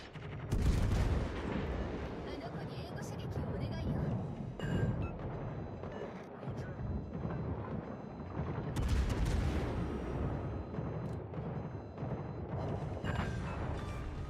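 Heavy naval gunfire from warships in a video game: repeated deep booming salvos with rumbling blasts, strongest near the start and around the nine-second mark, over a continuous low battle roar.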